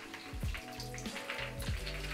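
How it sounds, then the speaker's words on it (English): A red non-alcoholic cocktail made with Three Spirit drinks is poured over a rocks glass filled to the top with ice, giving quiet liquid splashing and a few low clinks and knocks of ice. "We're just going to pour that in over the top."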